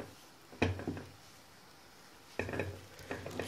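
A spoon stirs and presses thick flour dough in a pan for Turkish tulumba dessert, giving two bursts of scraping and knocking against the metal, separated by a quiet pause.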